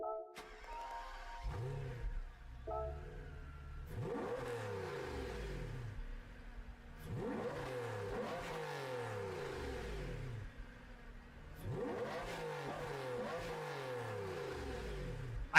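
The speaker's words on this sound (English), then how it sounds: "let's listen to this engine" A car engine revving through repeated upshifts in a racing video game, rising whines that drop at each gear change, three or four long acceleration runs heard up close without any talking.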